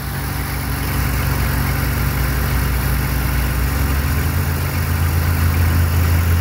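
A Mazda RX7 engine idles while warming up, giving a steady, loud, close low hum with a constant even throb and no change in pace.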